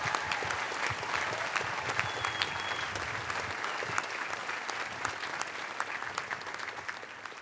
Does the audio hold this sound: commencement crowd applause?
yes